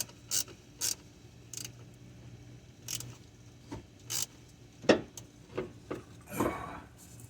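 A bolt is tightened on the alternator of a Chevrolet Camaro LS, with bursts of ratchet clicks and metallic tool clatter up close and short pauses between strokes, and nobody speaking.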